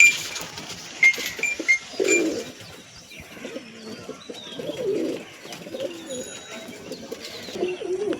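Pigeons at a home loft, including a Rajanwala male, give repeated low cooing phrases through the stretch, close by and fairly clear, with faint chirps and light rustling.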